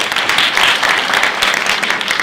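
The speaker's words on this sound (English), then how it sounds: "A round of applause for Dr. Matamani" Ceremony audience at a university STEM festival and research symposium closing gives a short, loud round of applause, with a dense wash of clapping from many hands close by.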